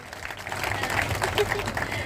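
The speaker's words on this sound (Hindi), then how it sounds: "Please give her a round of applause." Audience applause at a rural gathering in Haryana, a short burst of many hands clapping close by in dense steady patter, with voices faintly mixed in.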